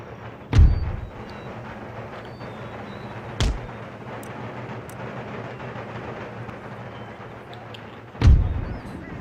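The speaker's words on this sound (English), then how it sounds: "Wow, are we getting hit by his mortar?" Mortar rounds land in an Empire Total War battle, with three heavy thuds spaced several seconds apart over a low, constant battlefield rumble.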